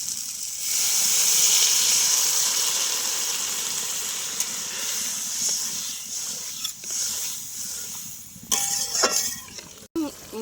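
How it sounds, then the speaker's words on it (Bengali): Water poured into fried potato curry in a hot pan sets off a loud, close steam hiss that slowly fades, followed by a few bubbling and clattering bursts near the end. "এখন আমি পরিমাণ মতো জল দিয়ে দেবো"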